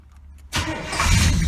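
A 1979 Chevrolet Malibu engine cranks and catches about half a second in, then runs loud and rough at close range, building to a steady roar.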